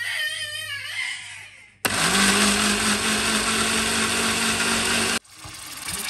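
A kitchen blender whirs loudly and steadily for a few seconds, pureeing apple with breast milk, cutting in abruptly and stopping just as sharply.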